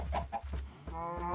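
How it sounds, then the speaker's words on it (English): Chickens in Minecraft give a few short, close clucks, followed by a steadier pitched cackle, with no talk over them. "Come on, make little baby chickens."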